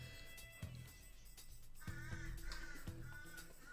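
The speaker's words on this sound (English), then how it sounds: "And the crow is very, very upset" An upset crow caws outside in the evening, several harsh calls in irregular bursts, fairly distant and clear over a quiet background.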